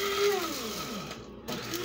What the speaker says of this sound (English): I got this coffee grinder, and that's all I use it for, is spices.